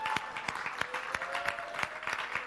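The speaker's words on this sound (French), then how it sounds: "Allez, on peut l'applaudir." A small audience at a live show gives brief applause for a volunteer, with sparse, distinct claps at a moderate rhythm over a faint voice.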